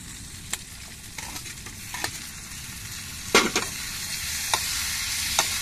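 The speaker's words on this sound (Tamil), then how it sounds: "அதுக்கப்புறம் நம்ம தக்காளியை சேர்த்துக்கிடுவோம்" Tomatoes sizzle in a frying pan as they are stirred into a curry base, a steady close hiss broken by sharp scraping clicks of the spoon, with no talking.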